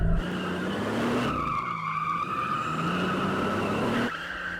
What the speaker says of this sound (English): Oh, we're getting some drifting, dude.